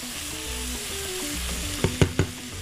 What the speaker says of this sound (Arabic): انا هقلبه كده تقليبه بالشكل ده